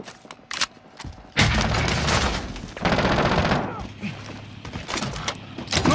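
Loud bursts of automatic gunfire in Warzone, rapid fusillades starting after a quiet moment and continuing in heavy stretches, with thuds and shouted voices mixed in.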